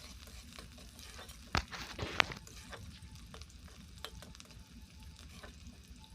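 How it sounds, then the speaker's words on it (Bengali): Chopped onion and green chillies fry in oil in a wok with a quiet, steady sizzle, broken by a few sharp clicks and scrapes of stirring. "পেঁয়াজটাকে এখন আমি খুব ভালোভাবে ভাজবো।"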